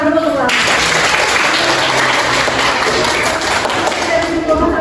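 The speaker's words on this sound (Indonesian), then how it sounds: "tepuk tangan dulu untuk Laura" A classroom full of students claps for a classmate, dense applause loud and continuous from start to finish, with a voice faintly audible near the beginning.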